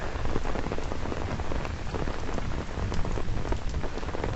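Heavy rain from Typhoon Merbok pouring down at Victoria Peak in Hong Kong, a dense, constant close hiss of drops hammering surfaces without pause, no voices.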